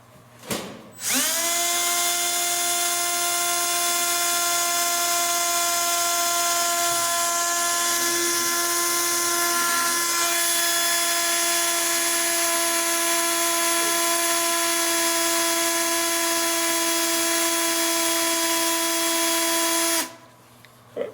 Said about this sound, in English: Drill this thing through.